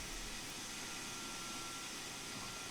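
Vacuum brakes building up on a train in Train Sim World 2, a steady, faint hiss of rushing air that holds at an even level throughout with no talking.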